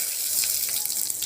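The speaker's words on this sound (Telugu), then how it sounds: "రవ్వ ఇలా గోల్డ్ కలర్ వచ్చేదాకా వేయించుకోవాలి" Semolina (rava) toasting in a pan with dry fruits such as almonds and raisins, giving a steady, soft, close hiss like light frying, with no voices over it.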